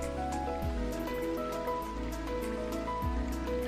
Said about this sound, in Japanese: 雨、すぐには止みそうにないですね